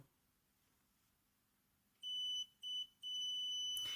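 An Arduino-controlled model elevator alarm, triggered by a stuck-elevator command, sounds three sharp electronic beeps in quick succession, the last held longest, loud and close after two seconds of near silence.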